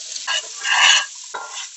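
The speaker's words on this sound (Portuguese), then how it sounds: "A manteiga derreteu, eu vou colocar a cebola, temperar com um pouquinho de sal." Onion sizzles in melted butter in a pan, with short bursts of frying and stirring that swell and fade, heard close with no voices.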